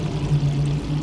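Water pours steadily into an ebb and flow grow table fitted with a bell siphon, flooding the tray around seed starters; a low, continuous trickling gush close by with no talk.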